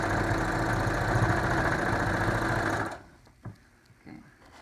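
A sewing machine stitches a lined cloth mask in a steady, dense mechanical whir for about three seconds, then stops, leaving a few soft handling taps and thumps close by.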